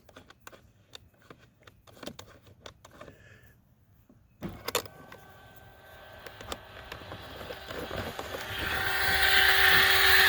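A small electric bilge pump in a kayak hums steadily, pumping water, starting after a few faint clicks and growing louder and brighter over several seconds, close by.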